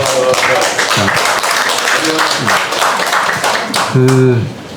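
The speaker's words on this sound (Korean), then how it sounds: "우리 다 같이 꼬마 친구들의 미래를 위해서 한번 축하의 박수를 한번 줬으면 좋겠습니다" An audience claps for young children at a Korean lecture on unification, a steady, dense patter of hands throughout, with a voice talking over it and a louder burst of speech near the end.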